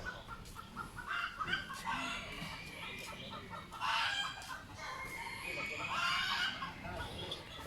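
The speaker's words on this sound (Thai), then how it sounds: "คือเสียงไก่ เยอะมากนะครับ" Many chickens clucking and crowing together outdoors in a monastery garden, a busy overlapping chorus of fowl calls with roosters crowing at intervals.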